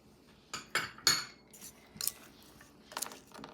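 A dry stuffing mix of Italian herbs, dried garlic, dried onion and black pepper is tossed in a bowl, heard as a handful of light, quiet utensil clinks and taps spaced irregularly.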